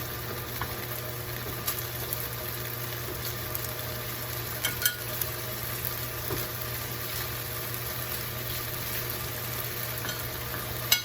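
Thin slices of beef fry in a pan for Mongolian-style beef, giving a low, even sizzle with occasional soft pops and clicks and no voices.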